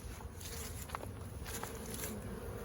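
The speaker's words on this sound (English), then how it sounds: "You see these bees here" Bees buzzing faintly around the small entrance hole of a hive as they fly in and out, a low, continuous insect drone with brief louder passes, at a distance and with no speech.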